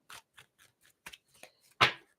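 Tarot cards being shuffled by hand in a few quick riffling bursts, small dry clicks and flutters separated by short pauses, ending in one louder, fuller riffle, close up and quiet, with no talking.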